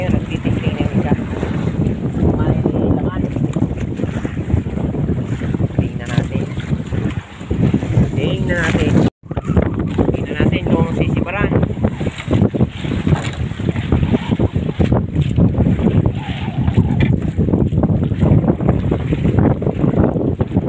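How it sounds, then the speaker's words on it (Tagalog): Strong wind roars steadily at sea beside a small fishing boat, with gusty buffeting on the microphone and water washing underneath, loud and continuous throughout. "Medyo malakas yung hangin ngayon"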